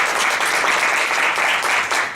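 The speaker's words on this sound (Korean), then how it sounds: "큰 박수로 좋은 강의 부탁드립니다." Steady, dense applause from a lecture audience welcoming a speaker to a YouTube creator seminar, close and continuous throughout the short moment.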